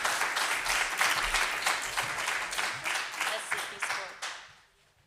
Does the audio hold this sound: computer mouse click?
no